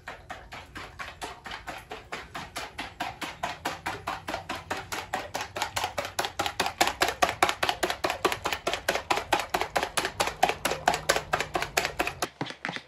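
A whisk or fork beats eggs by hand in a bowl for chiles rellenos batter, a fast, steady rhythm of close tapping strokes that grows slightly louder and holds its pace for over ten seconds before stopping.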